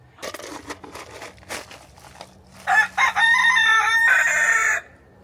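Several chickens cluck and shuffle nearby, then a rooster crows loudly twice, the second crow long and drawn out.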